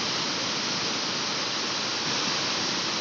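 Waterfall at Watu Purbo, Bangunrejo, Sleman, a steady broadband rush of falling water, loud and constant throughout with no talk over it.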